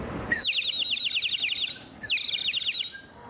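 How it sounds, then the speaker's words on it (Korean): Two bright, fluttering bursts of high warbling song, like an oriole's call on an autumn morning, ring out clearly with a short gap between them and no talk. "가을에 아침에 잠을 깨워주는 그런 꾀꼬리 소리 같은 그런 느낌 있잖아요."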